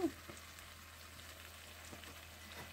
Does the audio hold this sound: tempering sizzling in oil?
yes